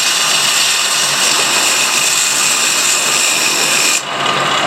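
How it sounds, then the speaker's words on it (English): A small power sander grinds continuously on a fossil crab from Washington, a loud steady high whirring rasp up close that cuts off briefly near the end. "I shouldn't say that sander because this is a sander too"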